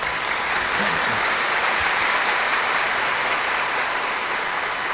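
Church congregation applauding the pastor's wife, a steady, dense wash of clapping that stays loud and even from start to finish, with a faint voice briefly underneath.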